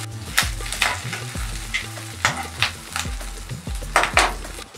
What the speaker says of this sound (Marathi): हे आपल्याला गोल्डन ब्राउन होईपर्यंत व्यवस्थित परतवून घ्यायचं आहे